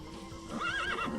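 A horse in the Minecraft game gives a loud, wavering neigh that rises and falls over about half a second, following a quieter lead-in.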